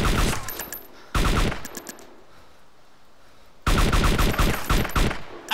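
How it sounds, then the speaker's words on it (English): Loud bursts of automatic gunfire in a shooter video game, one short burst near the start and a longer sustained volley toward the end, with quieter scattered shots in between. "I shot the fuck out of him!"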